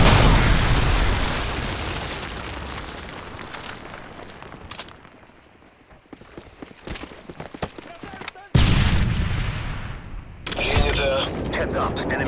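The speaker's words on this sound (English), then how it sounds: "Friendly predator missile inbound." A Call of Duty MW3 predator missile blast erupts loudly at the start, then rumbling debris and scattered gunfire follow before a second heavy burst crashes in near the end. A game voice speaks over part of it.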